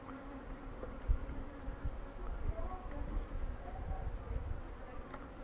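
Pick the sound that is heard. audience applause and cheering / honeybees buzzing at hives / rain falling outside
honeybees buzzing at hives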